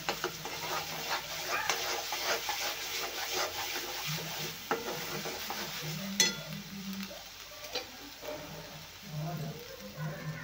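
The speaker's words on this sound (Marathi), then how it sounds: "तेलामध्ये छान भाजून घ्यायचे ना" Ingredients for a kingfish (surmai) curry fry in hot oil in a pan as a spoon stirs them, giving a continuous sizzle broken by scraping strokes and an occasional sharp clink.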